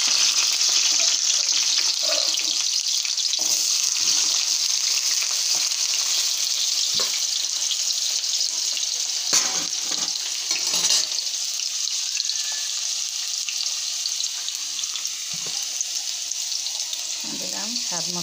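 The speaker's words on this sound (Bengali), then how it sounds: "তো এখানে আমি কড়াইতে তেল দিয়ে দিয়েছি, কয়েকটা আলু ভেজে নিব" Potatoes fry in oil in a wok, giving a steady, close hiss of sizzling that runs unbroken throughout, with a few soft clinks and stirring scrapes and no talk.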